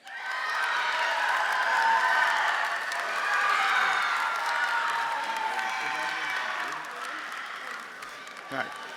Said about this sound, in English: Please give a round of applause to our third recipient